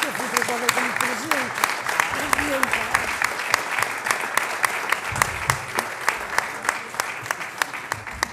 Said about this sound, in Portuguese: E peço até uma salva de palmas para ela.